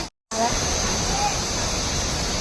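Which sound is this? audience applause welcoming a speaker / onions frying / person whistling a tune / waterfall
waterfall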